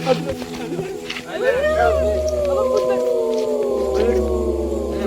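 A frightened dog howls in a long, wavering, sustained cry that rises and falls at close range, with a low steady hum underneath.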